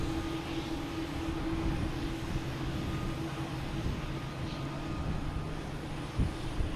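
An American Airlines jet at Boston Logan Airport, a steady engine rumble and hum with a faint high whine, sustained and moderately loud from a distance, with no talking.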